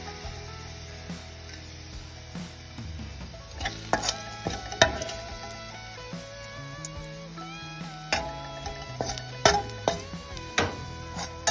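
Onions fry in hot oil in a pan for Onam sadya injipuli, a steady sizzle broken by repeated scrapes and knocks of a stirring spoon, close up, with faint music underneath.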